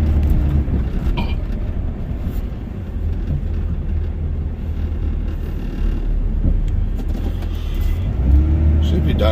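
A Dodge Ram Cummins diesel truck plows a cold, light snow, its engine droning steadily and loudly throughout with a low rumbling roar.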